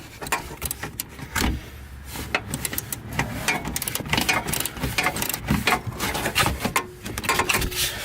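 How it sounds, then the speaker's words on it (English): A ratchet fitted with a long socket loosens bolts on a Subaru WRX build. It gives rapid clicking and ratcheting bursts with scraping metal and rubbing in between, close up and continuous, with no speech. "So you'll barely have enough clearance with the long socket. I'm gonna go ahead and just loosen it up."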